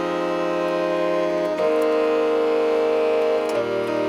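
A Casio MT-68 keyboard plays its Cosmic Tone voice, a loud, sustained synthetic tone with rich buzzy harmonics that steps to new pitches twice, held steadily without any talking.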